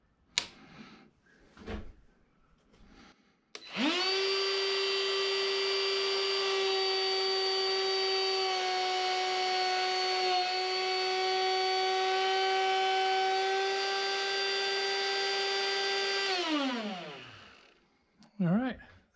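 A router cuts a hexagonal pen blank, spinning up to a loud, steady high whine that holds for about twelve seconds and then winds down. Short handling knocks come before and after.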